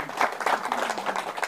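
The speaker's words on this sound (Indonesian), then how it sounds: "Tepuk tangan dulu." An audience at a religious lecture breaks into applause, a dense, even patter of many hands clapping together, moderately loud and close.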